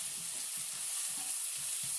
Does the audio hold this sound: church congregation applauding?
no